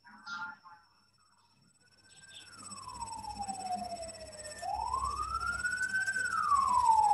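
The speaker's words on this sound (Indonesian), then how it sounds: "Ambulans" An ambulance siren wails outside, its pitch sweeping slowly down and back up as it passes and grows louder, after a brief burst of voices at the start.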